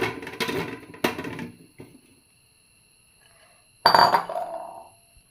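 Jackfruit balls dropped into a metal idli steamer pot, a few sharp metallic clinks and clatters in short bursts separated by a quiet pause, then a final louder clatter.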